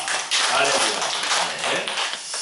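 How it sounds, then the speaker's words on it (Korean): A church congregation applauds together, a dense, close wash of clapping that holds steady for a couple of seconds, with a voice speaking partly over it. "먼저 하나님께 영광의 박수 드립니다"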